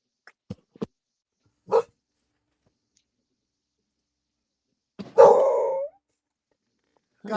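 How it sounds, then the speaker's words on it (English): A dog gives a few short, sharp barks and yips spaced apart, then a louder, drawn-out bark-howl, all close by in an otherwise quiet room. "What are you barking at?"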